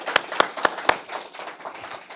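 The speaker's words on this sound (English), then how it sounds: "Round of applause." A few distinct, spaced hand claps at a startup conference talk, four sharp claps followed by fainter scattered clapping trailing off, fairly close and without speech.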